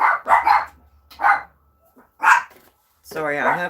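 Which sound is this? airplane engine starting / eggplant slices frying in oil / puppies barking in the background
puppies barking in the background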